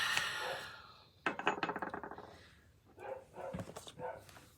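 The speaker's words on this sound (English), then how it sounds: "It's my dog's birthday. I guess I have to let her bark." A female dog barks in a short burst of several sharp yips and barks, fairly close, followed by a few more scattered barks after a brief lull.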